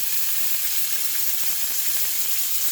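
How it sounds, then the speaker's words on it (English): Fish pan-searing in olive oil with garlic gives a loud, continuous bright sizzle that stays steady and close throughout, with no talk. "So now I'm going to hit it just a little bit more olive oil, garlic,"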